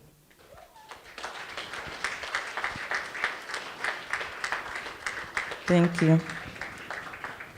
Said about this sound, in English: Can I have my colleagues upstanding and a round of applause from all gathered?